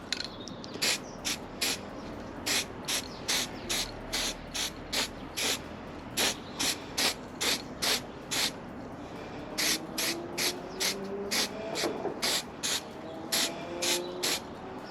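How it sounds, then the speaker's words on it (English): Repeated short hisses of an aerosol spray can spraying primer, bursts coming in quick rhythmic succession, close and fairly loud, with a faint background hum. "So I'm just going to spray the tip to start with."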